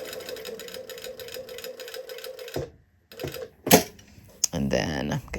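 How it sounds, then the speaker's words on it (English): A sewing machine runs steadily for about two and a half seconds, stitching down fabric on a small stitch length, then stops and gives short bursts, with a brief voice at the end. "So I'm going to sew down and then start veering."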